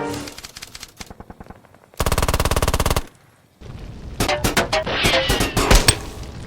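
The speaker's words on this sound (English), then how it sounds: "They fire at the slightest disturbance." Machine gun and rifle fire effects for a cinematic Bolt Action tabletop battle: several rapid automatic bursts, one long dense burst, then sharp overlapping single shots and volleys, loud and close with no talk.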